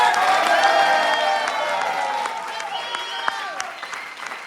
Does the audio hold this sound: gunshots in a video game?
no